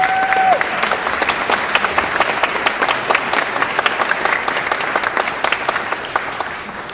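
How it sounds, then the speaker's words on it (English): A large crowd at a community association meeting claps loudly and continuously, a dense wash of applause that tapers slightly toward the end. "we just give those people a gigantic round of applause"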